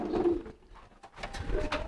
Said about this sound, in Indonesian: Ini yang khusus merpati balap.